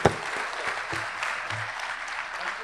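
Audience applause for Jay Vasavada at a Gujarati talk, a steady, dense wash of many hands clapping throughout, fairly loud and continuous with a sharper burst at the very start.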